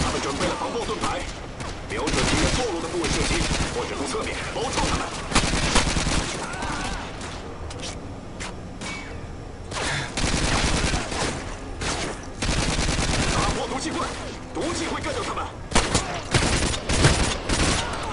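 Video game gunfire in a Call of Duty Online campaign mission inside a factory, with dense rapid automatic bursts and fusillades repeating loudly across the whole stretch, broken by short pauses.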